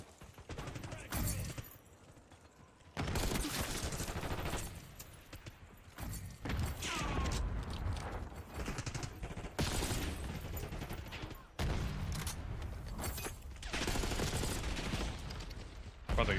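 Bursts of SMG fire from a hardcore multiplayer match in Black Ops 6 come close and loud in rapid rattling volleys, separated by brief quieter gaps, with background game noise and no talk.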